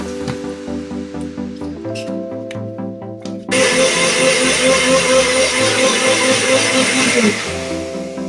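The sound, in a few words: blender blending beets, ginger and carrot juice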